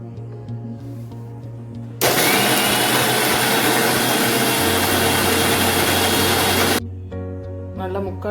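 A mixer grinder grinds banana appam batter, a loud broadband whir that starts abruptly, runs steadily for about five seconds, then cuts off; no speech is heard over it.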